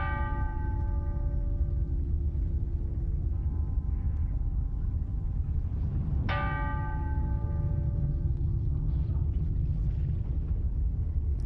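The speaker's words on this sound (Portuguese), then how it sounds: "todos os sinos das igrejas na cidade começam a tocar" Church bells across Lisbon ring over a heavy low rumble during an earthquake, sustained bright tones with a fresh loud strike near the middle and a later one toward the end, no voices.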